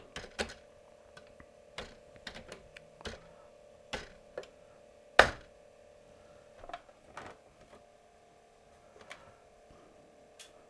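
Keys clack on a Commodore C64 keyboard in short, irregular taps, a dozen or so sharp clicks spread over several seconds with one louder strike midway, all quite close against a faint steady hum and without speech.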